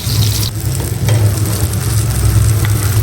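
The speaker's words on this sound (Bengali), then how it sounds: "বেগুন ভাজাটা হয়ে গেছে এখন নামাই নিব" Eggplant sizzles and spits in a hot pan with a constant frying hiss over a low hum.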